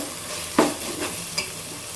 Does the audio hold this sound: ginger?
yes